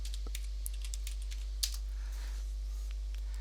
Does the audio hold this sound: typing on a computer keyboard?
yes